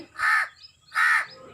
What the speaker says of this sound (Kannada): ಫ್ರೆಂಡ್ಸ್, ಕಾಗೆ ಈ ರೀತಿ ಕೂಗಿದರೆ